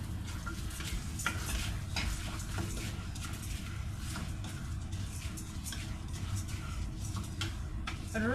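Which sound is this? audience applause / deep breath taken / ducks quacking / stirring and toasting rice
stirring and toasting rice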